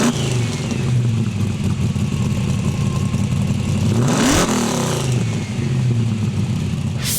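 A 1953 Plymouth engine rumbles at close range, swelling into a sharp rev near the middle before settling back to a steady idle, with a second brief blip at the end.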